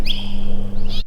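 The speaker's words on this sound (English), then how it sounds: "Birds." A bird recording played through a granular morph sampler comes out as a sustained chirpy whistle over a steady low electronic hum, cut off abruptly at the end.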